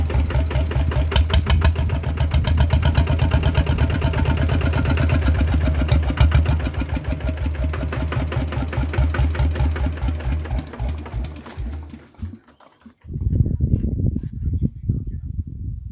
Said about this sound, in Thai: ฟังเสียงเครื่องก่อนเปลี่ยนถ่ายน้ำมันเครื่องว่า เสียงเครื่องมันจะเปลี่ยนไหมครับ